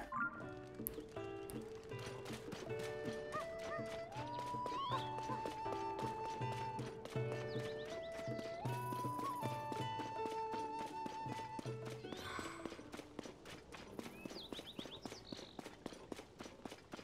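Horse hooves clip-clopping with an occasional neigh in The Legend of Zelda: Tears of the Kingdom, set against a steady, continuous bed of melodic game music.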